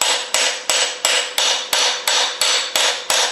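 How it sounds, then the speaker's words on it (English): Hammer tapping a socket to drive a timing gear onto a Studebaker 289 crankshaft, about ten evenly spaced sharp metallic strikes, each ringing briefly before the next, close and loud. "as I gently put my socket on here and tap"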